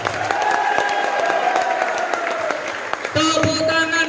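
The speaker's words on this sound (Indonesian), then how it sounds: "Tepuk tangan untuk Anda semua." Seminar audience of non-civil-servant workers in Central Java applauding, a steady crowd clapping with some cheers, heard under a voice speaking over loudspeakers.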